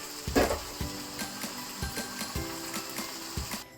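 Beef fried rice being stir-fried in a hot pan, with a steady sizzle broken by rhythmic scraping and clanking strokes of a spatula against the pan, close and moderately loud.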